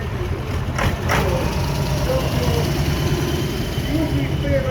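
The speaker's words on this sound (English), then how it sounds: "This has got a Perkian V8 engine." A vintage tractor with a Perkins V8 engine idles at an outdoor steam and vintage show, a steady low rumble running throughout, with a couple of brief sharper sounds near the start.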